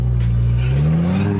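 A car engine revs up on the street, its rising whine climbing steadily over a little more than a second, loud and close.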